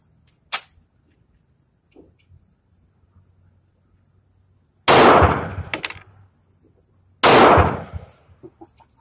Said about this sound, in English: that was just too cool, shooting that Luger